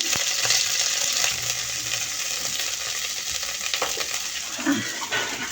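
Fish paste frying with dried shutki fish sizzles steadily in a pan while being stirred, with scraping strokes and a few clinks against the cookware, close and continuous.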